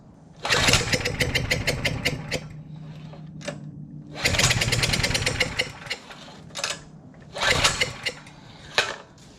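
A Power Stroke generator engine, sprayed with starter fluid, cranks in several rapid rhythmic bursts, each few seconds long, coughing and sputtering without catching, loud and close, with short pauses between attempts.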